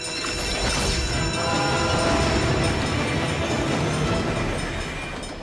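An animated cartoon train approaches a level crossing with the barrier closing. It gives a dense, continuous rumble and clatter of wheels and machinery with ringing metallic tones, loud and steady throughout, with no voices.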